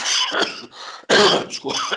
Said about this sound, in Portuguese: Desculpe a tosse, mas não é Covid, é nervoso mesmo